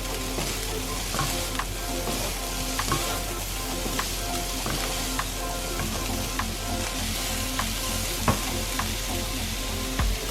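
Grated carrot is stirred through vegetable fried rice cooking in coconut oil, with a steady loud sizzle and repeated sharp clicks and scrapes of a utensil against the pan, continuous and close, with no voices.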